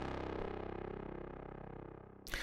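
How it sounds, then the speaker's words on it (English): Dark synth horn from a techno drop, a sustained low brassy tone with a faint pulsing texture that slowly fades before a short sharp hit at the end. "One of the, again, more important sound in this one is the horn sound."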